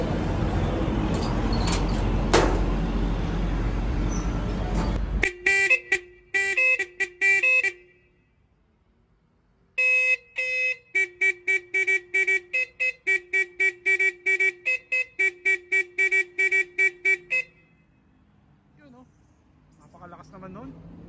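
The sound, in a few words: vintage vehicle horn being sounded for a sound check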